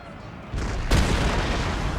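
Artillery fire in Empire Total War with the Darthmod mod: a low rumble of battle swells, then a single sharp, heavy cannon boom lands, followed by continued rolling battlefield noise.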